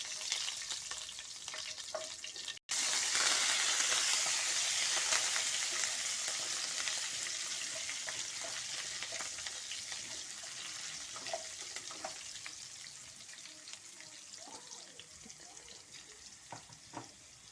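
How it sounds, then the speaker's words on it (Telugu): Cumin and mustard seeds crackle and sizzle in hot cooking oil, a steady close frying hiss with faint pops throughout, with no one talking. "అదే ఆయిల్లో నేను కొంచెం జీలకర్ర వేసుకుంటున్నాను, కొన్ని ఆవాలు"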